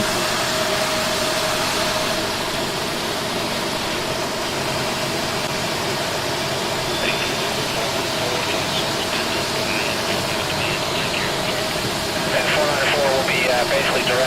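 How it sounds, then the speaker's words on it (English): CRJ regional jet engines spooling up during start on the ground at Los Angeles, a continuous loud whine and roar heard from inside the aircraft, steady throughout. "Engaging starter. Engine 1. Start valve open. Engine 1 and 2."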